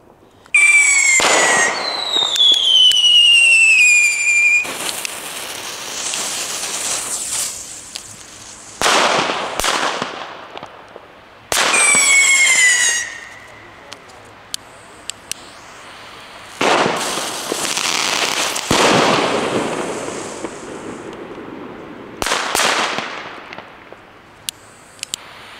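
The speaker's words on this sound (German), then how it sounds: "Als nächstes noch die B-Böller von Leslie." Lesli B-Böller firecrackers going off outdoors, a series of sharp loud bangs, some preceded by whistling fuses, spaced irregularly with silent gaps between them.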